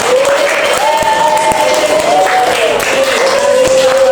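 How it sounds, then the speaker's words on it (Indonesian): A classroom audience claps together, a dense continuous patter of applause that stays loud throughout while a voice carries on underneath. "tepuk tangan untuk Mas Guna"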